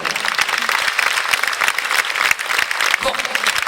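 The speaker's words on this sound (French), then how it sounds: "applaudissez très très fort" Dense, loud applause from a concert crowd at Le Liberté in Rennes, a continuous wash of many hands clapping with voices mixed in.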